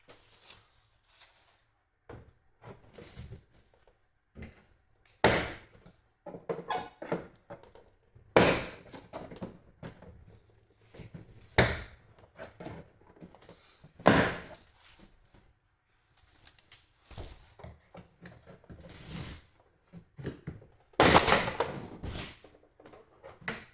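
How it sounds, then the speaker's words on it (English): Plastic clips snap and thud as a door panel is pried off an Infiniti G35 coupe during a lock actuator swap: a series of sharp, irregular pops and knocks, close by, separated by quiet pauses. "we can actually start popping out the door panel."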